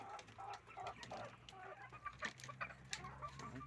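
Layer hens cluck close by in a run of short, irregular calls, several birds overlapping with busy farmyard background noise.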